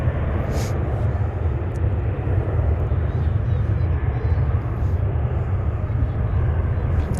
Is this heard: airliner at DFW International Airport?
yes